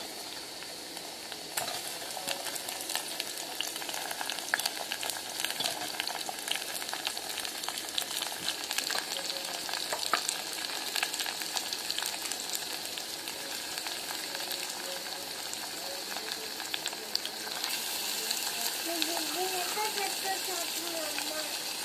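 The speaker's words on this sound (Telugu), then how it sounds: "ఇప్పుడైతే నేను చికెన్ వేసేసుకుంటానండి" Chicken frying in a pan while being stirred, a long steady sizzle with repeated scraping and rattling strokes, moderately close, with a faint voice talking in the background.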